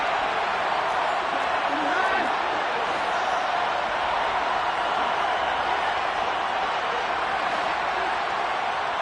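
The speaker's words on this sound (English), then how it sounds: "the crowd getting into it as we come up on a big 3rd down." A football stadium crowd roars in a steady, dense wash of cheering noise ahead of a big third down, loud and sustained throughout, with a commentator talking over it.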